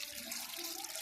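Tap water running in a home kitchen, a steady gentle hiss and trickle into a sink. Quiet and continuous throughout, with no one speaking.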